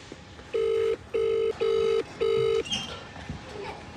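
A telephone rings unanswered: four evenly spaced, loud electronic ring bursts sound close by, each about half a second long, then the ringing stops, leaving low background noise.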